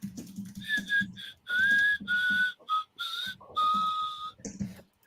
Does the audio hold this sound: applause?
no